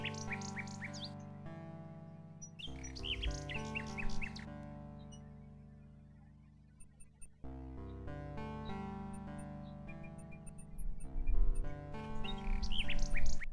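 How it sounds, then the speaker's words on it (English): A nightingale sings in the video game King's Quest VI, bright chirping phrases over a sustained synthesized musical accompaniment, repeating in bursts across the scene. "A nightingale perches on a high branch of the tree. She sings the most beautiful song Alexander has ever heard."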